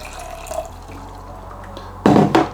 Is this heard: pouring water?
yes